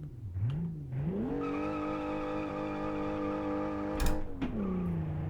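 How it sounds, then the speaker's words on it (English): Car launching in BeamNG, with tires squealing loudly and steadily as the engine pitch climbs, briefly broken by a shift before the squeal resumes. "I hope you like to hear tire squeal, because we're going to have lots of it"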